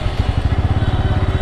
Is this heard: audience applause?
no